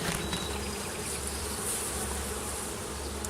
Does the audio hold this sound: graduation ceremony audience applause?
no